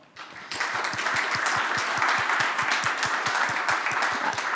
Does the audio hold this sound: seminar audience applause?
yes